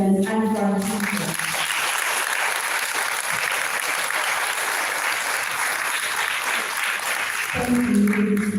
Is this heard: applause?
yes